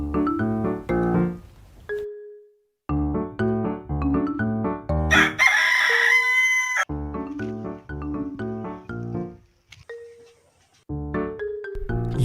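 A village rooster in Surajpur crows several times, loud and close, with long drawn-out calls separated by short pauses and a burst of noise partway through.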